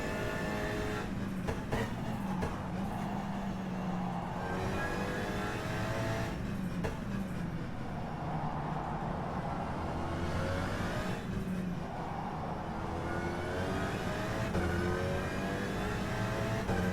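Alpine GT4 race car engine in the rFactor 2 racing simulation, revving loudly and continuously with repeated rising and falling pitch sweeps through gear changes, steady and close with no talk.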